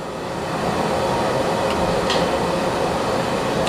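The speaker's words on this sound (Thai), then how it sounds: "นั่นรถไฟหลายพี่น้อง" A train rumbles steadily past near a market, a continuous broad roar filling the whole stretch with a few faint metallic clicks on top and no voices.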